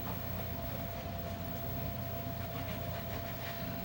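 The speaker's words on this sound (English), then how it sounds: "I thought I turned my air conditioner off" A home air conditioner runs in the background, a faint, steady broadband whoosh with a low hum, unchanging throughout and no one speaking.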